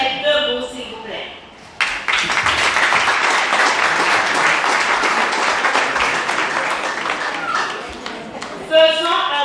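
Audience applauding a school director and administrator at a graduation ceremony in Savane Carrée, breaking out suddenly into loud, sustained crowd clapping that holds for about seven seconds before a voice returns.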